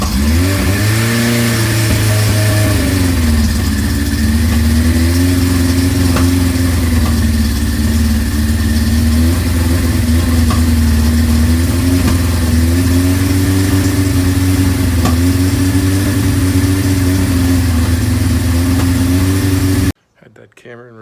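A 1983 Suzuki GS1100 GK naked motorcycle with a Vance & Hines exhaust runs close and loud, rising in revs at first and then settling into a steady, throaty idle with slight fluctuations before cutting off abruptly near the end.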